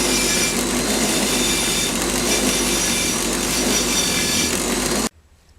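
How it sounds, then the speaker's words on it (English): A soft wire wheel spins against the teeth of a motorcycle sprocket, giving a loud, continuous grinding whir up close that cuts off abruptly near the end. "So on the soft wire wheel, I just want to clean between the teeth."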